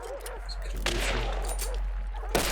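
Video game shootout gunfire: a few sharp shots crack out near the start and again at the end, with a steady rumble and scattered tonal game sounds between them.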